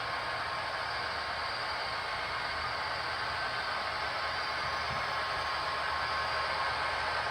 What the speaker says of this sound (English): And here comes our mid-train helper set.